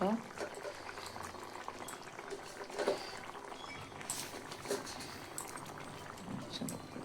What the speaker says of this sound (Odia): ପାଣି ଆଖିଆ ମାଛ ଝୋଳ ତରକାରୀ ଫୁଟିଲା, ପକାଇଦେବା ମାଛ